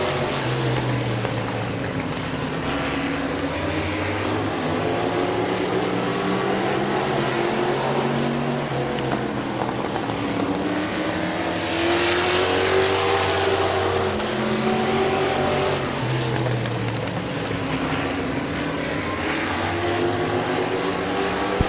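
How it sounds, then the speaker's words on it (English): Race cars circling a dirt speedway at Midvale, a continuous loud engine drone with rising and falling revs as cars pass, several machines overlapping throughout. "Martyr spins off turn number 2 just as Westlake was catching the 4 of Mills, and caution on the speedway"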